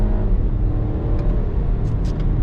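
An Audi Q3 engine revving hard under acceleration, a loud continuous low rumble and whir with no talk over it.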